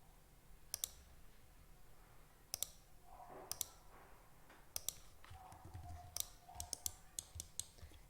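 A computer mouse double-clicks several times in quick pairs while working in CATIA, with crisp, close, faint clicks spaced over a quiet room hum.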